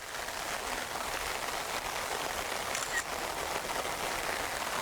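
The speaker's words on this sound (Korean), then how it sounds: "비가 엄청 오네요." Heavy rain pours steadily in Cheongju, a dense, even hiss of falling water spread wide and constant, with no voices over it.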